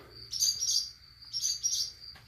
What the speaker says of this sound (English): I hear you, birds. I'm not trying to bother you.